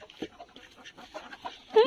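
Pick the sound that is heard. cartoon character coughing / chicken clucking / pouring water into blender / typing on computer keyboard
chicken clucking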